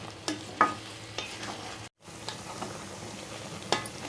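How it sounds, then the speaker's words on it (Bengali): Raw mango pieces and jaggery cook together in a pan, a low bubbling sizzle with a few distinct scrapes and knocks of a stirring spoon and a brief gap, no voices. "এখন আমি এটাকে ভালো করে একটু সিদ্ধ করে নেব"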